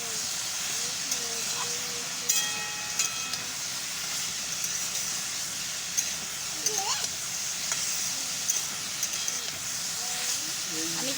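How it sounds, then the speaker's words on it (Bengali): Potato pieces and pointed gourd fry in oil in a pan, producing a continuous even sizzle and hiss with occasional light stirring taps, and a faint voice underneath. "এই যে আলুগুলো দিয়ে দিয়েছি আবার উল্টো পাল্টে ভালো করে ভেজে নেব"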